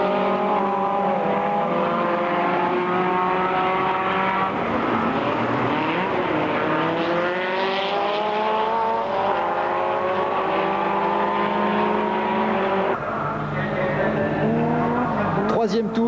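Volkswagen Beetle race cars in the 1998 French Super VW Cup racing on a circuit, engines droning and rising in pitch through gear changes, with a shifting overlapping roar throughout and a race commentator talking over them.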